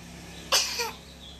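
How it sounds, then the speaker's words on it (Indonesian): A single short child's cough, close and sharp, with no talk around it. "Oh gitu kalau batuk."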